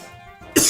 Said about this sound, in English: that was the first time I've actually coughed during a recording